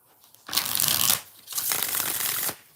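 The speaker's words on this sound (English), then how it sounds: "I don't know why I shuffled it again." A tarot deck riffled by hand, two quick close bursts of card shuffling separated by a brief pause, crisp and papery with no voices.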